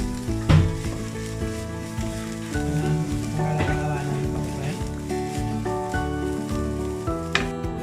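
Chopped green chillies frying in a hot pan, a loud continuous sizzle with spatula knocks and stirring scrapes throughout, a muffled voice faintly underneath.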